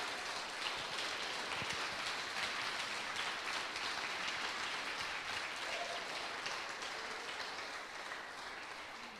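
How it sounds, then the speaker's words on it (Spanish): Applause from a church congregation during a Spanish-language sermon, a dense, steady wash of many hands clapping at moderate distance that thins slightly toward the end. "Dale un aplauso a Cristo Jesús,"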